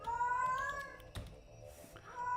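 A cat meows in a drawn-out, rising and falling call, followed by a short bump and then a second quieter meow, close and clear against a quiet room.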